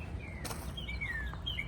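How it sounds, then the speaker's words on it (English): Birds sing outdoors on a spring day, a few thin whistled notes and chirps rising and falling over faint background noise, moderately distant. "Hear the birds?"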